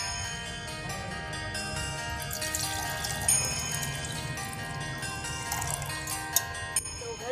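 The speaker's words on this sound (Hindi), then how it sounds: "दोघड़ में पानी डाल दिया है" Water is poured into a brass puja pot during an Ahoi Ashtami home ritual, a steady bright splashing and ringing wash that runs continuously, close and fairly loud, with no talk.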